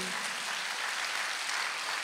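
A church congregation applauds during a Sunday service, with dense, steady clapping from many hands filling the room for a couple of seconds.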